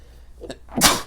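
A single sharp human sneeze bursts out loud and close after a brief quiet intake of breath, with no talking around it.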